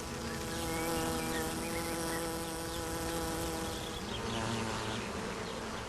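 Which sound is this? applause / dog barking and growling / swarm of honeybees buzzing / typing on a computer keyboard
swarm of honeybees buzzing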